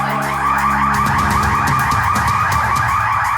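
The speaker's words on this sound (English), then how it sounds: "Fire alarm's just gone off, so everybody has to evacuate the building." A fire alarm blares inside an SPCA animal shelter building, a loud, continuous electronic tone with a rapidly pulsing, warbling pattern that persists steadily throughout, with no voices over it.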